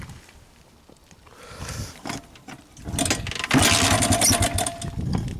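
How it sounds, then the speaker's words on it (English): A Honda 300 EX quad's engine is kicked over and catches, first a few uneven sputtering bursts, then a loud, close, rough-running roar with revving pulses. "the engine runs. It fires right up. Probably kick it over right now."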